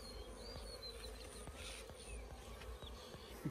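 Bees buzzing during a manual honey harvest, a dense, steady drone of many insects close by with brief clicks and knocks, continuous and unbroken, with no one talking.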